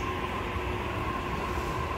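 A train pulls into the JR Akabane station platform on tracks 3 and 4, a steady, loud rumble of rail wagons with a faint tonal whine running throughout.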